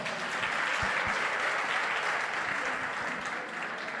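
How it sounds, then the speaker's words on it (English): Audience applause fills the room steadily, a dense wash of many hands clapping at even loudness, with a couple of low thumps near the start and a slight fade at the end. "Guys, let's give him another round of applause."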